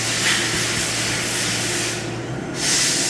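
The spindle of a 2021 Doosan DNM 5700L machining center with a 4th axis spins at 7,000 RPM. It gives a loud, steady rushing hiss with a low hum and dips briefly near the end.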